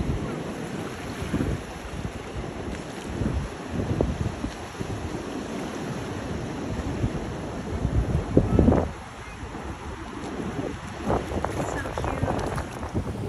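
Gusty wind on the north coast of Maui buffets the microphone with uneven low rumbling bursts, loudest near the end, while a person talks.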